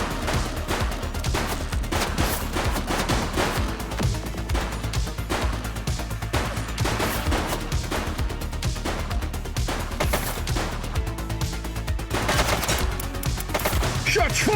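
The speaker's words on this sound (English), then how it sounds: "Shots fired!" Gunfire in the police video game The Precinct, dense rapid bursts of automatic shots and single cracks in constant succession, loud and close, with crashes mixed in.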